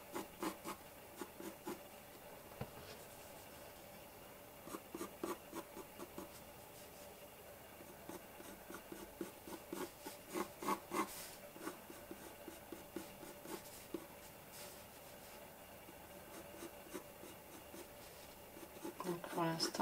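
Faber-Castell Albrecht Dürer watercolor colored pencil scratching and rubbing across paper in soft, irregular strokes, faint and close, under quiet speech.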